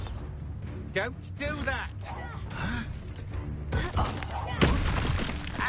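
Fire spell blasts from Confringo in Hogwarts Legacy, several thumping booms and bursts scattered through the fight, mixed under a voice and battle chatter.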